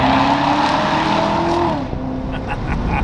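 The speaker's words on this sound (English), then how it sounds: "This is what the stock exhaust sounds like." Stock exhaust engine note of a Corvette Z06, a loud low rumbling drone with steady harmonics that drops in pitch as revs fall, then settles into a quieter idle burble.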